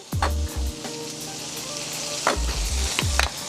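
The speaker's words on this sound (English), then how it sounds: "I'm really, really big on toasting my buns with the mayo" Burger buns toasting in mayo in a hot pan for a homemade bacon cheeseburger, a steady close sizzle with a few sharper crackles and scrapes as they are moved around.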